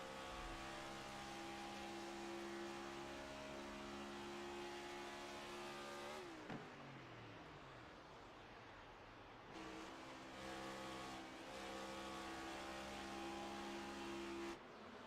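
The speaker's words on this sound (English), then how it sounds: "listen for that engine note to just drop." A race car engine in iRacing at Indianapolis Motor Speedway holds a steady high whine, then the note drops sharply and blurs before rising again, loud and continuous with no talk.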